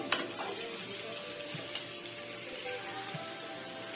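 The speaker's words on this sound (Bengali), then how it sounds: "এবারে নাড়তে থাকবো। লক্ষ্য রাখবেন যেন না আলুগুলো ভেঙে যায়।" Potato pieces fry softly in a pan as they are gently stirred, a faint, steady sizzle with occasional light scraping and clinks of utensil on metal.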